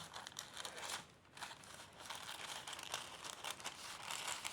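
A circle is cut out of craft material, giving steady crinkly rustling and tearing-like crackles that run continuously at close range with brief lulls, and no one speaks.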